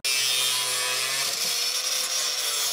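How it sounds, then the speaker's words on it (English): Angle grinder with a cutoff wheel slicing through a gate, a loud, continuous high-pitched grinding whine that holds steady throughout. "I'll be using a cutoff wheel and my grinder."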